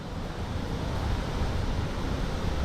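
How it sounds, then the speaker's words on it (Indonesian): Water splashing down the 62-metre Sigerincing waterfall, a dense, steady roar of falling spray that fills the scene without letup. "Saya disambut segarnya percikan air terjun setinggi 62 meter."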